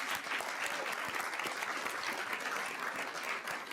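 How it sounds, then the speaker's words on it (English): Steady, sustained applause from an audience at a school district governing board meeting, a dense wash of many hands clapping at moderate distance throughout, with no talking over it. "Let's give them a nice round of applause"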